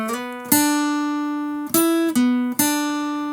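A short, clean electric guitar phrase from a song's solo: a few sustained single notes, each sharply picked and slowly ringing out, played alone and up close.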